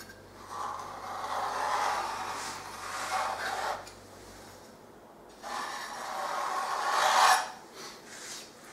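Steady rasping cuts through material in two long sweeping passes, each lasting a few seconds with a brief pause between, close and moderately loud with no talk.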